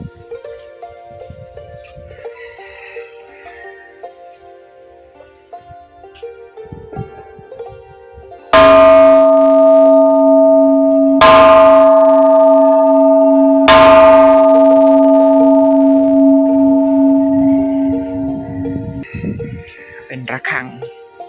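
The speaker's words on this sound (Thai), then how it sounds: "เดี๋ยวเรามาเคาะ ระฆัง เพื่อเป็นสิริมงคลต่อชีวิตเนาะ" A large temple bell at a Thai Buddhist temple in Klaeng, Rayong is struck three times a few seconds apart, each strike ringing out loud and close with a long sustained hum, after quieter moments of background talk.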